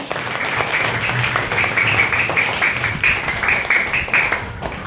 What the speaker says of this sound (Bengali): সবাই একটা জোরে হাততালি দাও